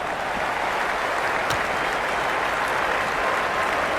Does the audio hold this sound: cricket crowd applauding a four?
yes